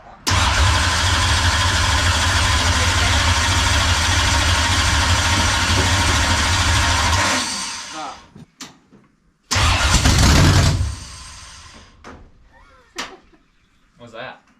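A 602 dirt late model race car engine is cranked hard for about seven seconds, then stops. After a pause a second short burst of cranking follows, and people talk in the quiet gaps. The car is loud and close.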